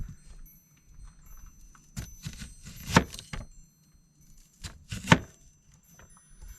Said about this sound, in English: first thing we gotta do, chop up some veggies